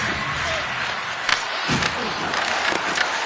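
Hockey arena crowd in the NHL 26 video game, a continuous loud roar of many voices with occasional thuds and cheers rising through it.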